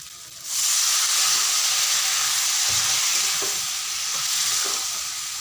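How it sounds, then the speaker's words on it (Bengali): Young jackfruit pieces sizzle and hiss loudly in a hot pan as they are stirred in, the steady frying noise starting abruptly after a quiet half-second and holding throughout, with occasional soft scrapes of a utensil. "এরপর এঁচড়গুলোকেও দিয়ে দিচ্ছি দিয়ে ভালো করে মিশিয়ে নিতে হবে"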